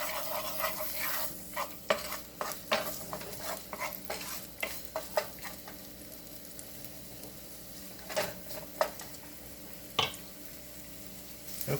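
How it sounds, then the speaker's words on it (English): Garlic and ginger fry in a pan with a soft, steady sizzle, broken by repeated scraping and stirring clicks of a utensil against the pan, quiet and close with no talking. "We are going to put our garlic and ginger in the pan for just about 30"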